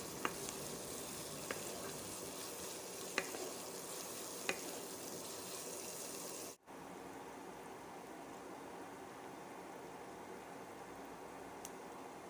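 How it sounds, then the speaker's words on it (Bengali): Onions frying in a pan and being stirred while they turn golden brown, giving a soft steady sizzle with a few sharp scrape clicks early on, then a brief break and a quieter continuing hiss. "পেঁয়াজগুলো ভালো করে নেড়েচেড়ে ভেজে নিই।"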